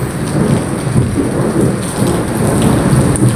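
Heavy rain pours steadily with deep rolling thunder rumbling underneath, a loud, continuous storm wash throughout with no voices.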